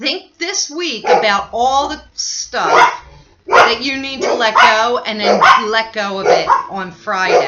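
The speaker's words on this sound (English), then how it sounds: "Sorry about the dogs" Dogs bark and yip repeatedly in the background while a person keeps speaking over them, the barks close and fairly loud, overlapping the voice throughout.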